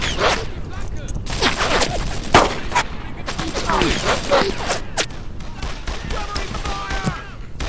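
Machine gun fire in the World War II shooter Brothers In Arms: Earned In Blood, with loud bursts and scattered single shots mixed with game effects, while a player talks over the combat.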